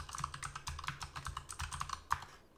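Rapid, uneven key clicks from a computer keyboard as a password is typed, close and fairly quiet, a burst of taps with brief pauses and no talking.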